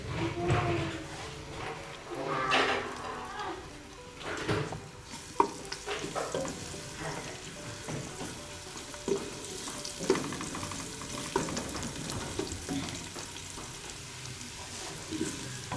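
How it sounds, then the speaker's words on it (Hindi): Quiet, steady sizzling of ginger garlic paste frying in hot ghee, with occasional scraping and stirring clatter from a utensil in the pan. "घी गर्म होने पर इसमें 2 चम्मच अदरक लहसुन पेस्ट शामिल करें और इसे फ्राई करें।"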